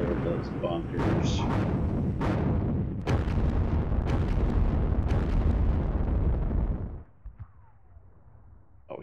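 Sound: 105 mm artillery firing on bunkers in video game Sealion '40

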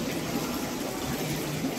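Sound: water falling into a biofloc fish tank

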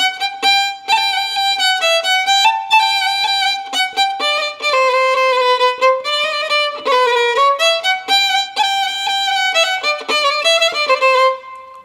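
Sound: violin playing a short passage of Sârba creață

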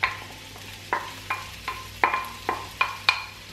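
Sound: onion sizzling in hot oiled wok

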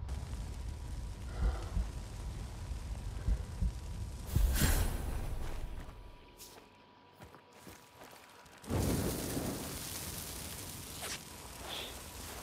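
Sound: bomblets exploding in the video game Hunt Showdown

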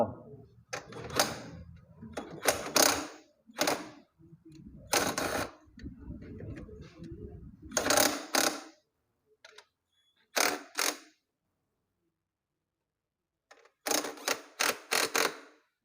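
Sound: wrench tightening bolt on motorcycle sidecar hitch

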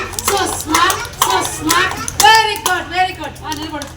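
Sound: children clapping hands

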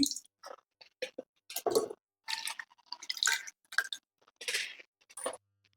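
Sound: water dripping from washed potato draining on a sieve

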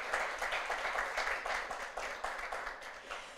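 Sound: audience applause welcoming everyone

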